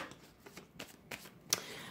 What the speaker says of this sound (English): just shuffling the cards up before we actually get into it.